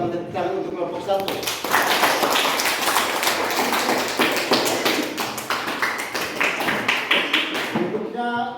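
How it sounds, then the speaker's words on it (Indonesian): Classroom of students clapping together for a presenting group, with steady, dense, close applause lasting several seconds before tapering off, with voices around it. "Kita sama-sama tepuk tangan untuk kelompok 1."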